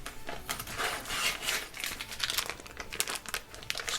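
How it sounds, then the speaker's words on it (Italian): Plastic crackles and tears as a vacuum-sealed sous vide bag of veal is opened, with close, busy crinkling bursts that run throughout, no voices. "Iniziamo con aprire il sacchetto sottovuoto."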